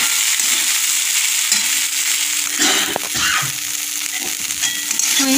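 Poha with boiled potatoes and turmeric sautéed in a pan for nagpuri taari poha, a steady close sizzle broken by a few soft scraping stirs, with no talk.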